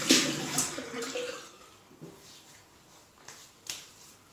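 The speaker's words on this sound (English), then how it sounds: "So I'm going to wet my face." Water from a tap splashes and drips as hands wet a face before shaving, a few soft irregular splashes near the start, then quieter sporadic drips and touches in a calm, close room.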